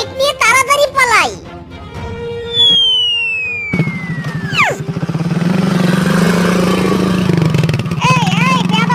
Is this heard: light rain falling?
no